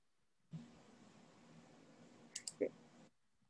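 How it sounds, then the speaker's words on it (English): A computer mouse clicks quietly in a still room: a single click, a pause, then a quick cluster of three or four clicks near the end. "Just gonna keep clicking."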